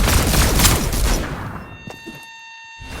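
Rapid bursts of gunfire in the Fortnite video game, loud and close for about a second and a half, then trailing off into scattered shots and faint electronic tones.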